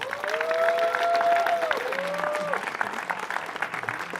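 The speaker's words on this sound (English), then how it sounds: "So let's please give them a round of applause" Applause for sponsors at a web developer demo day, moderate and steady, with a tonal musical or voice-like sound over the start and light crowd noise beneath.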